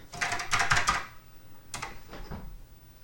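Keys clack on a vintage TRS-80 computer keyboard rescued from the trash, a quick burst of close typing followed by a pause and a few slower, softer presses.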